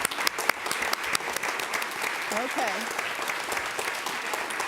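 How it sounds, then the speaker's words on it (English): An audience at a school board meeting applauds in a steady, dense burst of clapping throughout, with a brief spoken word over the top. "Would the families please stand and let us applaud you?"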